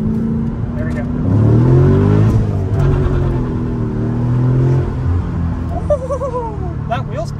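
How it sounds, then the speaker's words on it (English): A Dodge Challenger SRT8 accelerates hard with wheel spin, its loud exhaust roaring and climbing in pitch, then easing off with a shift, heard from inside the car while a person talks over it. "the exhaust that you hear from right behind you is absolutely incredible"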